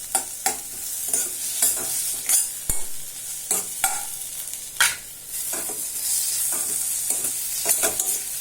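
Turmeric, Kashmiri chili powder, garam masala and salt are sautéing in a pan for a vegetable soup, with a continuous hiss of frying and repeated scraping stir strokes, close by and without talk.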